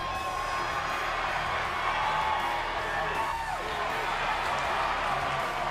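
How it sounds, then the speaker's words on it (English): Wrestling arena crowd from the WWE 2K20 video game cheering and whooping in a steady, dense roar that fills the whole stretch, with a commentator talking over it. "Ricochet feeding off the energy of this Full Sail crowd."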